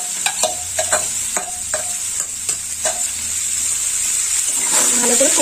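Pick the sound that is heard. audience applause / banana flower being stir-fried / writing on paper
banana flower being stir-fried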